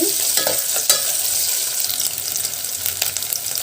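Taro root curry frying in a pan as ginger paste gets stirred in, a loud, close sizzle with scraping stir strokes and a couple of sharp clinks, no voices.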